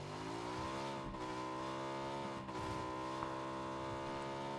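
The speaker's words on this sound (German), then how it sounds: "Motorrad!" A motorcycle engine in PUBG gives a quiet, steady humming drone with a slight upward drift in pitch and a couple of brief dips. No one speaks.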